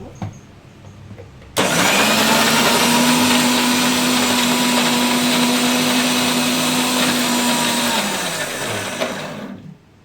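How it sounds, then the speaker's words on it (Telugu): A mixer grinder grinds grated coconut with water, starting abruptly after a quiet pause and running as a loud, close, steady whirring motor for about eight seconds before cutting off. "కొంచెం వాటర్ వేసుకున్నాను, తర్వాత మిక్సీ పట్టేసుకున్నాను."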